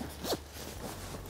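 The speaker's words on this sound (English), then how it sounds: "The zipper is a two-way zipper, so you can vent it from the feet" A two-way zipper on a Marmot Atom 40 degree sleeping bag is pulled in one quick, close rasping stroke, followed by faint rustling of fabric.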